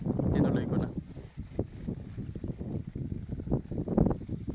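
Strong wind gusts across an open watermelon farm, buffeting the microphone with a constant low roar that swells and eases, while a voice talks indistinctly underneath.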